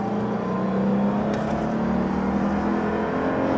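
A 2006 Lexus GS 300 with a 3.0-litre, 249 hp engine running on LPG accelerates from inside the cabin, a steady engine drone rising gently in pitch with no talk.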